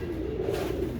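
A single soft, low coo comes from a female pigeon of the Imam Deen breed, close by and brief against a faint background.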